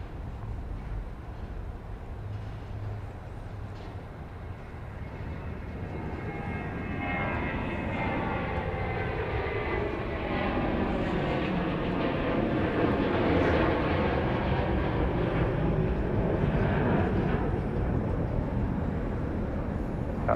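A fixed-wing passenger airplane at Dallas Love Field airport approaches runway 13 right, its engine roar swelling from a distant hum into a loud, steady rumble with a sweeping whine as it passes close by.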